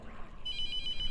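A telephone in the horror game The Mortuary Assistant begins ringing partway through with a bright, repeated electronic trill, fairly clear above a low dark ambient hum, with no voices over it.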